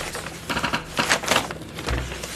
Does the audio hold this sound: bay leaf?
no